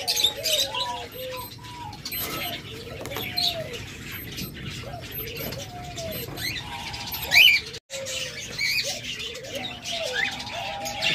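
Pet budgerigars chirp and warble in a cage, a steady stream of short overlapping tweets and squawks with one brief louder call, close by and without talk.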